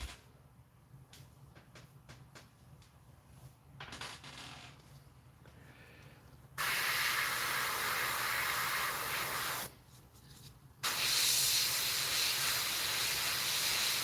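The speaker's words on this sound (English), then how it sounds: "So the airbrush is pretty good. The trigger on it's a little wonky." Airbrush with a slightly wonky trigger spraying paint, used while starting to paint a Wolverine figure: a steady, loud hiss in two long bursts separated by a short pause, preceded by quieter handling noises, with no talking.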